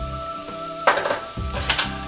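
Floured onions being stirred in a pan, with a utensil scraping and clinking against the pan in two short bursts over a low steady hum, fairly close, no talking.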